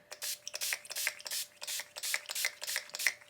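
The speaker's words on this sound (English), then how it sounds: "I'm going to hold my palette here and just spray" Skindinavia Oil Control Setting Spray misted over a makeup palette in a run of short, close hissy bursts, about eight quick pumps in a steady rhythm with no talking.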